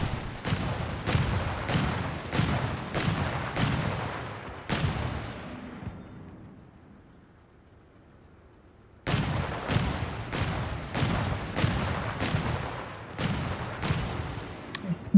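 A Crusader anti-air tank in Company of Heroes 3 fires at a Grenadier squad from relatively long range: evenly spaced, punchy cannon shots, about seven in a row, a lull while the echo fades, then another rapid string of shots.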